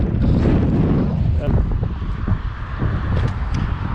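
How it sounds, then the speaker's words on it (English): Gusty outdoor wind buffets the microphone in a chilly open setting near trees, a loud low roar that is strongest at the start and eases off a little toward the end. "it's getting pretty chilly with the wind picking up"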